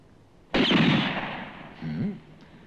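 A single loud pistol shot in a 1967 western cracks out suddenly and rings off in a long decaying tail, followed by a brief voice.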